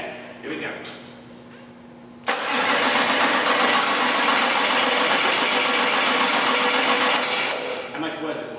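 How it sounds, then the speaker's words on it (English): A diesel engine cranks on its starter motor with a bigger starter fitted, a loud, steady, churning whir that kicks in abruptly and runs about five seconds before dropping away, with voices talking faintly before and after. "I'm going to crank it for about 10 seconds."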